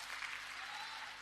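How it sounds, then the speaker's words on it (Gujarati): Audience applause for party workers at an Aam Aadmi Party gathering in Surat, a steady, dense wash of clapping from a crowd with no voices standing out above it. "દોસ્તો, જોરદાર તાળીઓથી વધાવો એમને."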